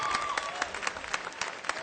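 An audience at a college commencement address claps steadily through a short burst of applause, with a dense, even patter of many hands filling a large space.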